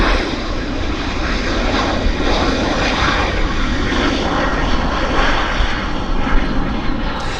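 A fixed-wing airliner at Vancouver Airport roars loud and steady throughout, broadband engine noise holding level with no voices over it.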